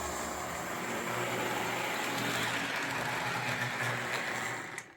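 An O-27 gauge model train locomotive with an E unit running on a looped layout track, a steady close electric motor hum and wheel rumble that cuts off abruptly at the end.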